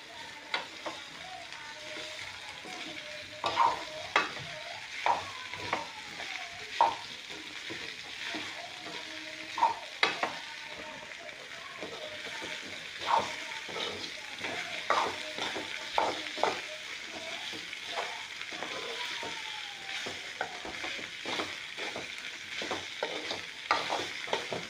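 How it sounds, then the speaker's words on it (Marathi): Cabbage leaves fry with onions and red chillies in a pan, steady sizzling broken by frequent scraping and tapping stirs with a spatula, fairly close and moderately loud. "तर भाजीला कांदे मिरच्यामध्ये आपण अलट पलट करून घेऊ।"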